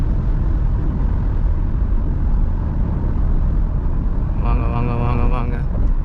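Steady car engine and road rumble while cruising at about 100 km/h in sixth gear in a car with 100,000 km on it; a voice speaks over the noise near the end.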